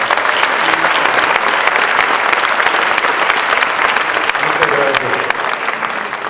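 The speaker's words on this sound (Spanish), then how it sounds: "Bienvenido, un aplauso para Rubén Ibarra." Sustained applause from a large audience, dense and steady clapping throughout with a slight fade near the end.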